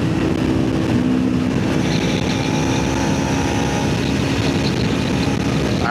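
A Kawasaki Ninja 250SE motorcycle engine strains while being ridden downhill in the rain, giving a constant, loud, droning whine mixed with rushing wind noise and no clear speech.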